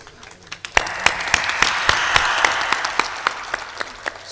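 An audience at a spiritual discourse breaks into applause. A few claps build into a fuller round of steady clapping, with sharp individual claps standing out above the crowd's wash.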